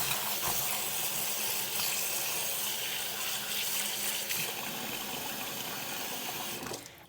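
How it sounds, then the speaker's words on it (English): Tap water pours steadily into a bowl in a home kitchen, a continuous close rushing and splashing that holds nearly unchanged throughout and cuts off at the very end. "I'm just going to put some tap water"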